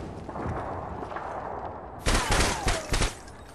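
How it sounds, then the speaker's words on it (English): Gunfire erupts in a video game team deathmatch after a stretch of background noise, a few sharp, close bursts of rapid shots arriving in quick succession. "Who's shooting?"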